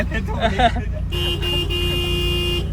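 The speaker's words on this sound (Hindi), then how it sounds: "जरा हॉर्न तो बजाएं, दरवाजा खुलेगा।" A genuine Honda Civic horn gives one steady, loud honk lasting over a second, right after a brief stretch of someone talking.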